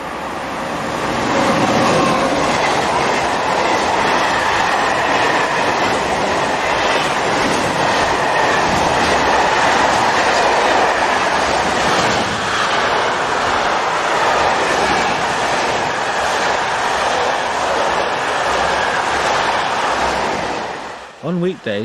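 SNCF locomotive 22225 hauls a train westbound past the closed station at Vernon, a loud sustained rumble with rhythmic wheel clatter and rushing air building and holding close before dropping away abruptly at the end.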